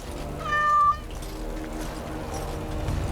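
A cat meows once in Dragon Age: Origins – Awakening, a clear drawn-out mew that rises briefly over a busy game backdrop of ambient noise and low rumble.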